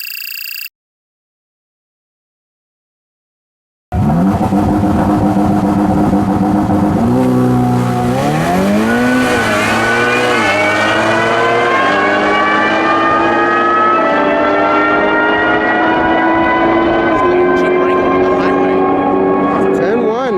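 A stock Ferrari F8 Tributo engine roars to high revs and launches hard off the line on a drag strip, pitch climbing through gears in a loud, sustained scream close by.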